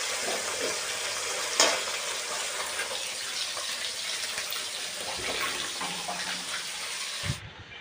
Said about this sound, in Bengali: তো এদিকে আমি বসিয়ে দিয়েছি মাছ ভাজা, দেখতে পাচ্ছি এখানে মাছ ভাজা হচ্ছে।